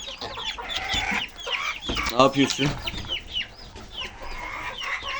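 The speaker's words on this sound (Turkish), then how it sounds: "Damızlık için ayırdığımız horoz" A breeding rooster raised alone in a chicken coop gives several short clucks and throaty calls up close, while someone speaks to it over the sounds.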